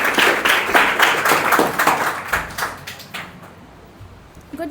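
Audience at a school public speaking championship claps for a student speaker, a burst of dense, fairly close applause that thins into scattered claps and fades to near quiet after about three seconds.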